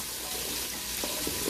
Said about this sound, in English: Saute them up really good.